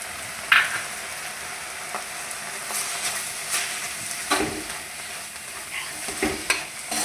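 Crushed garlic and ginger frying in a pan for chicken curry are stirred steadily, a continuous close sizzle broken by a few scraping spoon strokes.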